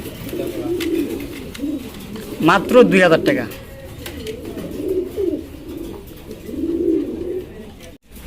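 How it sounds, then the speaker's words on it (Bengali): White Bombay pigeons coo in low, soft bursts throughout, with someone talking over them near the birds. "এখানে একজোড়া বোম্বাই কবুতর আছে হোয়াইট বোম্বাই"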